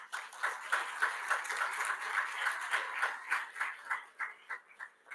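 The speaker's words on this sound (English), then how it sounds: "a round of applause for it." Faint clapping from a seated audience at a poetry event, an even patter of many hands that thins into scattered claps near the end, heard from a distance.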